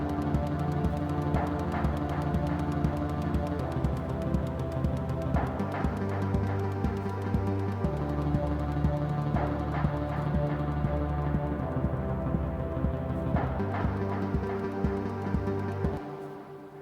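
Electronic music from a Dirtywave M8 tracker: a looping beat with punchy percussive hits over sustained droning synth tones, steady and full throughout, fading at the end.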